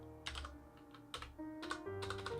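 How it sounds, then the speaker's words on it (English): Keys clatter on an ergonomic split computer keyboard in short bursts of typing, close and fairly quiet, with brief pauses between the flurries and no one talking. "it's an Ergo keyboard and I'm still not completely used to its layout"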